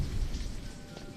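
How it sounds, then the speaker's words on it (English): Rain ambience in a Unity engine game environment, a steady dense patter of falling rain with low rumbling undertone, continuous and moderately loud with no voices. "this first sector right here has obviously a rain environment attached to it"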